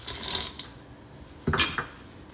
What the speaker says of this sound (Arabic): الحين نضيف حبيبات شوكولاتة هيرشي،